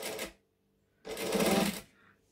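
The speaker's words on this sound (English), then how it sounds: "I'm just holding it in the center and stitching little bits at a time" A sewing machine stitches a strap in short runs: one brief burst of whirring, a pause, then a longer, steadier stretch of rapid stitching that fades into quiet.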